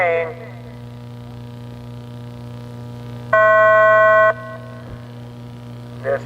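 A single electronic start tone sounds for about a second at an RC car track, loud and clear over a steady background hum, with brief beeps at the start and end.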